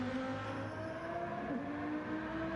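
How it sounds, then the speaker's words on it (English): Italian GT race car engine in a Nürburgring 24-hour sim race, a steady sustained drone with a gear or pitch shift midway, continuous and fairly loud among other cars. "those Italian cars sound really good"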